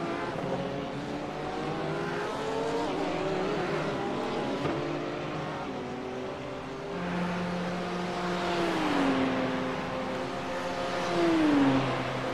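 A Porsche GT3 race car drives through the chicane at Catalunya, its engine a steady tonal drone that rises and falls through gear changes. Other engine notes overlap and the sound swells slightly near the end, with no talk over it.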